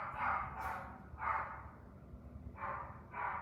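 An agitated indoor dog barks repeatedly, four loud barks in an uneven rhythm, sounding somewhat close and alone with no talk over them.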